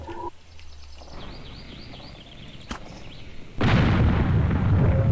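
A jettisoned glider drops and blows up in the Air Buccaneers airship battle game, a sudden loud, broad blast that rumbles on steadily after a quieter stretch of whistling game sounds.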